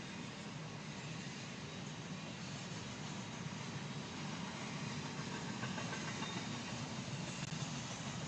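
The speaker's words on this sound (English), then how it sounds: "I call that high authority freight. That's intermodal." An intermodal freight train passes near Waycross at speed, a steady broad rumble and rail roar holding continuously with no voices.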